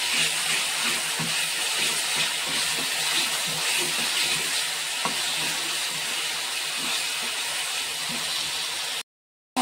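Masala spice paste fries in a pan for a prawn dish, giving a steady bright sizzle and hiss with small pops, which cuts off abruptly just before the end.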